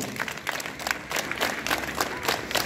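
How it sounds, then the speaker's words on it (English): Students at a school assembly clap together in a dense, steady burst of applause from a crowd, with many hands sounding at once for the whole stretch. "hands up, clap together."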